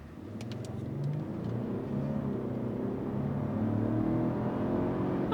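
Lexus LX700h SUV accelerating hard in Sport S Plus mode, heard from inside the cabin as a low engine rumble and whir building steadily in loudness, with a few faint clicks early on.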